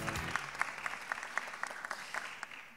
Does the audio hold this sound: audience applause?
yes